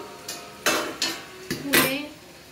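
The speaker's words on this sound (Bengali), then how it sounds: "চলো এবার ফাইনালি ঢাকনাটা খুলি" A lid lifted off a cooking pot of fish head with pumpkin, giving a few sharp metallic clanks and scrapes, loud and close, with no talking.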